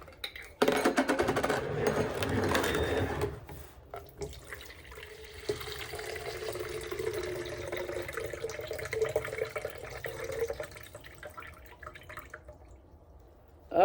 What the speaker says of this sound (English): Pour the juice off.